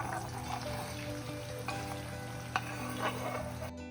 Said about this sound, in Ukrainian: Цибулю нарізаємо напівкільцями і підсмажуємо її до прозорості на смальці